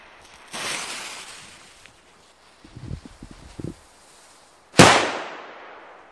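A Hammer H1 Polish firecracker loaded with 1.5 grams of NEM goes off in one loud, sharp blast near the end, with a long fading tail, after earlier rustling and faint handling noises.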